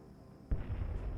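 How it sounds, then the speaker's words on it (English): A single heavy explosion bursts in the video game Dreamfall: Chapters, its sudden boom rolling into a sustained low rumble that holds loud to the end. "Explosion."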